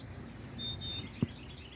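Birds chirping in a tropical backyard garden on a December morning, with a few thin, high whistled notes that are fairly faint against quiet background hiss.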